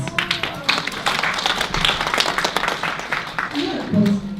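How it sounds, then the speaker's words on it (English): Audience applause following a youth public speaking contest round, with clapping spread through the whole stretch and voices talking over it. "give them a round of applause."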